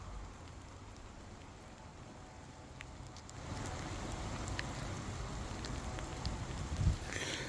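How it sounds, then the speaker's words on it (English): Rain falls outdoors as a faint, steady hiss of drops. It thickens slightly midway, with a soft bump near the end and no talking. "And there's the rain, people."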